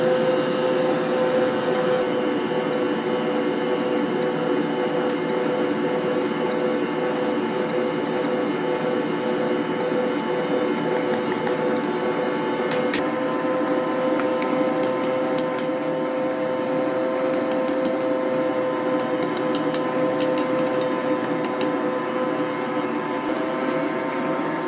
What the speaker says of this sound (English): when I turn this mixer on, you can't hear me